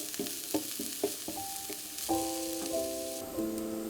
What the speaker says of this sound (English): cook some of that red onion I chopped up in a hot pan with a little bit of oil